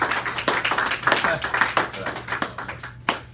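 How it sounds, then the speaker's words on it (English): Audience at a small comedy show gives a burst of clapping and applause, a dense patter of hand claps with some crowd voices mixed in, tapering off near the end. "Give yourself applause, if you would."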